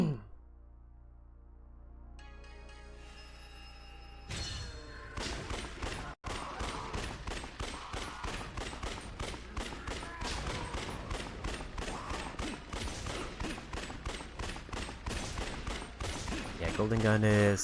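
Golden gun fired in Yakuza Dead Souls, a rapid run of sharp repeated shots after a quieter start, loud and steady with game effects, near and continuous.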